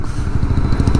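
A KTM 390 Adventure motorcycle engine runs smoothly and fairly quietly, giving a steady low throbbing pulse up close, with no talk over it.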